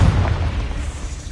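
A Confringo blast spell in Hogwarts Legacy lands as a heavy, booming explosion with a deep low-end thud. It fades into a dense, rumbling wash across the short burst, with no voices.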